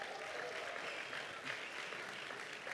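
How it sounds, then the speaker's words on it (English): Audience at a university pitch competition applauding the sponsors, a brief dense wash of clapping at a steady level. "Let's give a round of applause to our sponsors."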